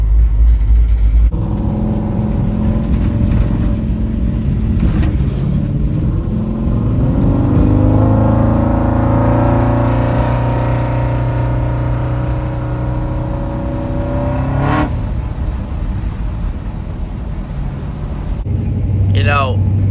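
A pickup truck's engine idles and revs steadily close by through a bright afternoon, its low rumble holding throughout while someone talks over it.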